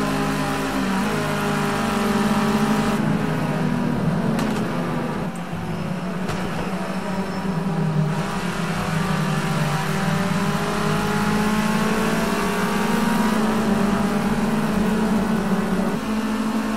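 A race car engine in Project CARS 2 at the Snetterton circuit holds a loud, continuous drone that rises and falls slightly in pitch as it revs through the race, with no voices.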